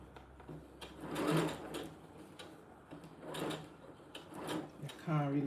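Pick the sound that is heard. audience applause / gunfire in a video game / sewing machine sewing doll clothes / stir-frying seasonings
sewing machine sewing doll clothes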